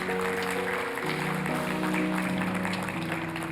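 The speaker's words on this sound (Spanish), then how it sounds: "¿Cuánto le dan un aplauso a Jesús en esta hora?" A church congregation applauds, a broad, steady wash of clapping mixed with sustained organ or keyboard chords that shift pitch throughout.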